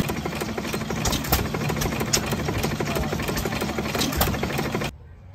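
An old hit-and-miss stationary engine at a tractor show in Tyner, Indiana chugs loudly and close by, firing in an uneven rhythm of knocking pops for about five seconds before it cuts off abruptly.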